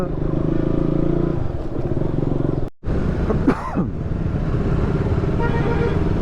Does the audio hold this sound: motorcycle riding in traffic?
yes